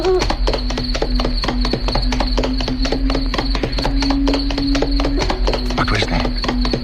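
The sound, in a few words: horse hooves as he rides his old horse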